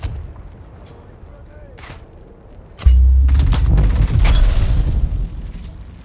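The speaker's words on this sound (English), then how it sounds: "They got snipers, man." Sniper rifle fire in the game Dune Awakening, a sudden loud booming shot with sustained rumbling blasts afterward, following a quieter stretch with faint sounds.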